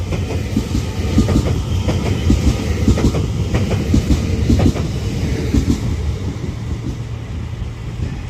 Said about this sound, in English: This doubled up Avanti West Coast Class 805 departs Birmingham International now